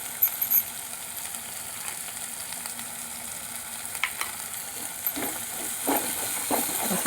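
Masala with turmeric and red chutney frying in oil for an egg masala, a steady soft sizzle with occasional stirring scrapes and clinks that grow busier toward the end.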